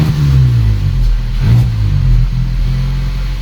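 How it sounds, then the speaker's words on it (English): A VW Polo 1.2 TSI engine with sticking revs climbs high and then sags back down, loud and close, with a brief surge in the middle and no talking. "it just starts revving high and then goes down, so you could pull away just using the clutch because the revs are sticking"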